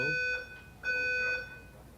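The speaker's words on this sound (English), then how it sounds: "That's a fire alarm." A building fire alarm sounds in repeated loud, high electronic beeping bursts, two long tones separated by a short gap, heard alone without talk.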